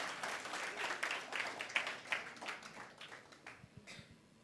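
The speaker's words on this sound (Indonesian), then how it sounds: "Berikan tepuk tangan sekali lagi." Applause from a congregation in a church, a soft spread of many hands clapping that swells and then thins out over a few seconds, somewhat distant and fairly quiet.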